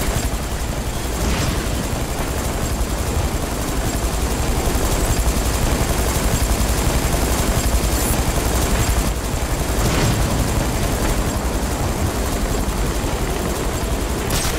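Helicopters in the video game Batman Arkham City, a loud, steady rotor wash and engine roar that fills the whole stretch without a break, with a few sharp cracks standing out over it.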